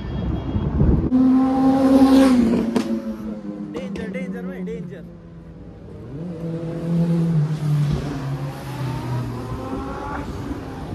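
Engines rev loudly and sweep past in waves as riders go by one after another on a Sunday ride near Khopoli, with wind noise over the passing machines.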